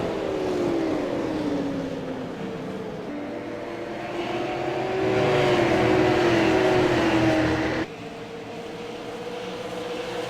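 Super late model race cars lap the Milwaukee Mile oval, a loud, continuous engine drone whose pitch sweeps down and up as the pack passes, with no voices over it.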